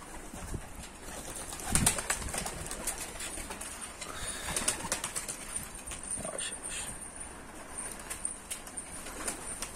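Turkish pigeons coo softly with occasional wing flaps, heard at moderate distance against an outdoor background, with no talking.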